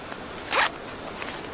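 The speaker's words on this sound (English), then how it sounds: "once it's back in, you can just zipper it shut" A zipper draws shut on the small battery pouch of a Unigear heated glove, one quick, close rasp lasting a fraction of a second against quiet surroundings.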